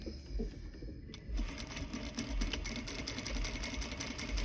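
A sewing machine runs steadily, top stitching a quarter inch from a seam on a serged welt seam, its fast needle chatter continuous and close for the whole stretch with no talk.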